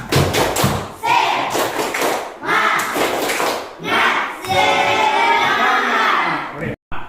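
Students in a class repeat the rhythmic 'tepuk semangat' spirit clap, loud close bursts of patterned clapping and thudding with voices chanting along, ending in a brief cutoff.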